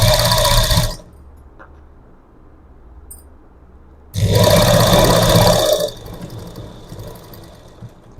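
A sewing machine stitches tucks in two bursts of rapid, loud mechanical whirring, separated by a quiet pause with faint handling clicks, then softer motor sound afterward.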